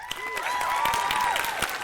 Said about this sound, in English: There was no shortage of applause and joyful tears.